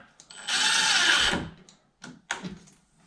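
A small power drill driving screws while hanging a door whirs for about a second, followed by a few short, quick bursts of the motor.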